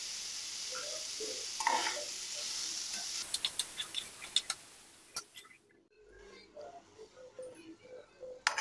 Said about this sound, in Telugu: ఇప్పుడు చింతపండు వేసి ఒకసారి కలుపుకొని మూత పెట్టి 1-2 నిమిషాలు వేయించుకోవాలి.